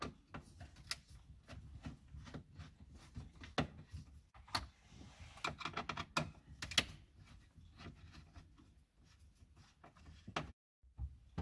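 Small T20 screws are backed out of the dashboard screen surround in a Mercedes-Benz ML350 W166, giving a scatter of faint, close ticks and clicks of driver and fasteners over a quiet interior.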